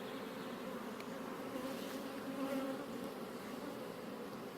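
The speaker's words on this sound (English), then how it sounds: "find like a spot where there's not so many bees" Bees buzz around an open beehive at a ranch, a steady, faint swarming hum with no voices.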